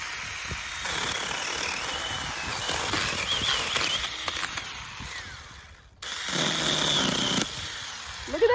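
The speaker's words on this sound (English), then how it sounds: "this little saw that I got on Amazon, and it cuts through" A small hand-held powered saw from Amazon cutting through branches about an inch thick, with a buzzing, rattling cut that stops briefly midway before resuming loudly.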